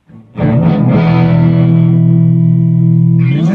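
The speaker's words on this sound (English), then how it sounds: "This is a single coil, like we were talking about before, as far as the Strat." A distorted electric guitar with a single-coil pickup, Stratocaster-style, rings out a loud, sustained chord after a brief muted strum, with another strum at the end.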